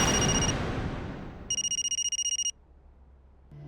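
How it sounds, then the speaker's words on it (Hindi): A telephone rings with a bright electronic trill, one short burst followed by a longer pulsing ring, loud and close. "माँ, अनु का फोन है।"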